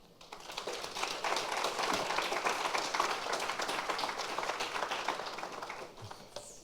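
An audience at a conference session on regulation and innovation applauds steadily, a sustained wash of many hands clapping that swells quickly and tapers off near the end.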